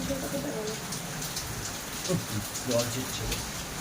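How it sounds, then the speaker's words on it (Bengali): Heavy rain pours down in a steady, dense roar close by, with faint voices in the background. "দেখো বৃষ্টি চলে এসছে জোরে বেশ বৃষ্টি হচ্ছে"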